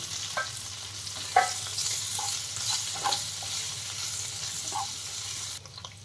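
Spices and asafoetida (hing) roasting in a pan for a farali potato dry sabzi, a steady soft sizzle with occasional light scraping stirs, close and fairly quiet throughout.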